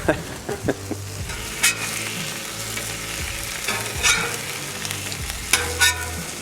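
Eggs fry on a Blackstone griddle with a steady close sizzle, broken by sharp metallic spatula scrapes and taps as they are flipped.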